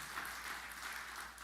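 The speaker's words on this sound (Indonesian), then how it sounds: "tepuk tangan yang meriah bagi Tuhan Yesus" A church congregation applauds after a sermon, giving a soft, steady wash of many hands clapping, heard faintly at a distance with no talking.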